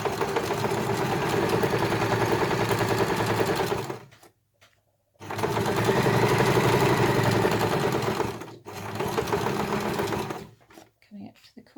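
A sewing machine stitches fabric in three steady mechanical runs, stopping briefly between each, loud and close.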